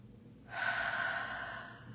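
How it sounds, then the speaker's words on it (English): A single deep inhalation, close and clear, rising at half a second and easing off over the next second and a half, alone with no talk. "let's take a breath"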